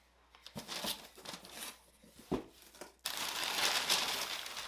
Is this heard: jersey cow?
no